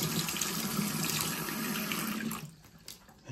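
Tap water runs steadily over a pH meter probe being rinsed clean, a broad continuous splashing hiss that stops abruptly near the end, leaving brief drips and quiet.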